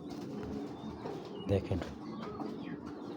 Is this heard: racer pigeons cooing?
yes